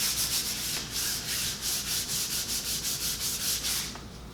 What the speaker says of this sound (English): This is 400 grit sandpaper. It's easy to find. We're just smoothing any bumps or uneven bits at this point.